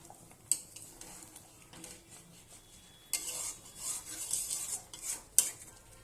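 A spoon stirs pomfret fish in poppy seed paste inside a pan, with scraping and clinking strokes against the metal and a soft sizzle underneath, close by and with no talking.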